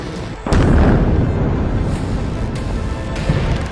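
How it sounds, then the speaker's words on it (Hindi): A loud, sustained explosion rumble from missile and bomb strikes on Beirut, beginning with a sudden blast and then holding as a dense, roaring wash for several seconds. "एक तरफ इजराइल की एयरफोर्स बेरूत में हिजबुल्लाह के ठिकानों पर मिसाइल और बम बरसा रही है"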